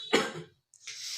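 A person coughs once, a loud close burst followed by a brief pause and then a softer raspy throat sound, with no talking.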